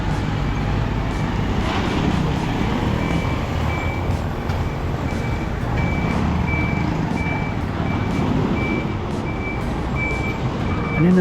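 A forklift's reversing alarm beeps in a steady, evenly spaced series on a busy Seoul back street, loud and close over a dense rumble of engines and traffic that continues throughout.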